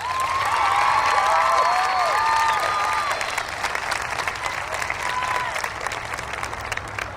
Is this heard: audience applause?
yes